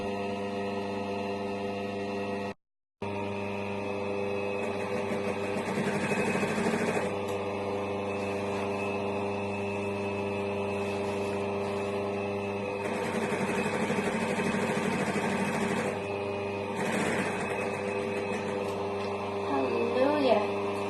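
Sewing machine running steadily while stitching a seam on a fur wrap, a continuous mechanical hum with a few brief pauses and changes in pace, with talking over it at times.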